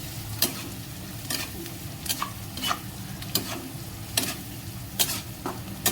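Chicken 65 frying in hot oil in a pan, a steady sizzle broken by regular spatula strokes scraping the pan roughly every second, close up with no talking.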